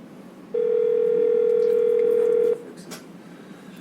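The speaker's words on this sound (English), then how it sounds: "could you please mute the phone that you're on because other calls are ringing in from your phone?" A conference phone at a county board of supervisors meeting sounds a single steady electronic tone lasting about two seconds, loud and close, over quiet room noise.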